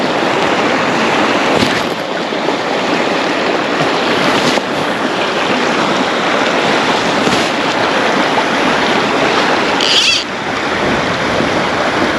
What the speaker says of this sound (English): The wind is wild.